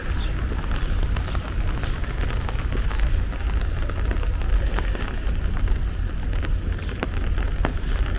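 Cold, raw December rain pours steadily on Eastern Parkway in Crown Heights, Brooklyn, a dense continuous hiss of drops with low rumbling street noise underneath, loud and unbroken throughout.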